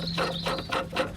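Short scraping, ratcheting mechanical sound of a greased brake line fitting being screwed in by hand on a 2002 Range Rover L322, heard close over a low background hum.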